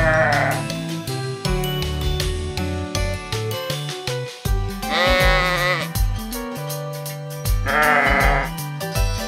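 Toy sheep bleat in bursts over busy, steady children's cartoon music, as the sheep jump off a toy train into a new pen.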